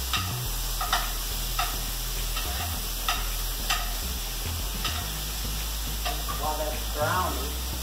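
Beef browns in a hot pan with a steady, close sizzle and frying hiss, broken by periodic scraping and stirring clatter from a utensil.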